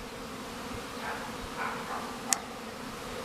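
Honeybees buzz around their hives in poor weather, a faint, steady droning hum with a few passing swells and one brief sharp click, quiet throughout with no talk.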